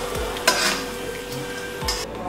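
Martabak noodles fry in a pan with a steady sizzle, while a utensil stirs and scrapes the pan with a few brief clinks. The sound stays close and even throughout.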